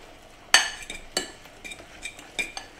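A utensil stirs an egg into a burger mixture in a bowl, giving a few sharp clinks followed by lighter, evenly spaced taps and scrapes, close and fairly quiet.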